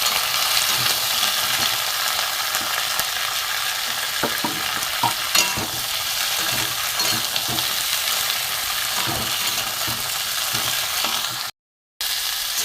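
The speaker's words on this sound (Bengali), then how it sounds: "সবজিটা একটু ভাজবো ভালো করে।" Sliced potatoes and other vegetables fry in a pan for a bottle gourd stem curry, giving a steady, dense sizzle with occasional stirring clicks. It runs continuously at close range with no talk, cutting out briefly near the end.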